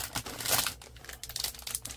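Product packaging for a letterpress system is pulled apart by hand, with bursts of crinkling and ripping plastic or cardboard close by for about two seconds.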